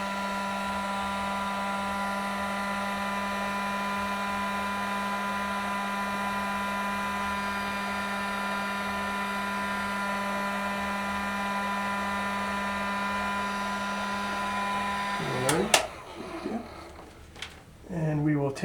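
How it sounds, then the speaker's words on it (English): A heat gun warms a rubber fishing-lure skirt, its steady whirring drone running unbroken for about fifteen seconds before it stops and a voice talks over the quiet workbench. "we will fire up the heat gun here"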